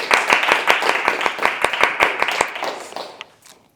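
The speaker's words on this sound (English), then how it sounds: "Can we get a massive round of applause," A live audience at a poetry reading event claps in a crowded burst of sharp hand claps that thins out and fades away over a few seconds.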